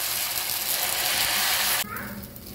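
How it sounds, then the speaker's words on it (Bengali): Banana and egg batter fries in oil over a low gas flame, a steady loud sizzle that drops off abruptly near the end, leaving a quieter hiss. "গ্যাসের ফ্লেমটা লোতে দিয়ে কিন্তু এটা আস্তে আস্তে ভেজে নেব।"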